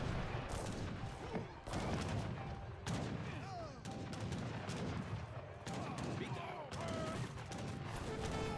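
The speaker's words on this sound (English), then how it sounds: "Mortar engaged in town center, very nice." Mortar blasts and rifle gunfire from an Age of Empires 3 match, a steady barrage of overlapping shots and booms with battle effects throughout, loud and continuous.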